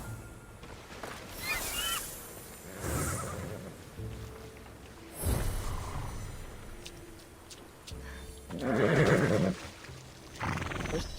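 A horse in the video game Immortals Fenyx Rising whinnies several times over game ambience, with hoof clops and rumbling effects between the calls, close and moderately loud.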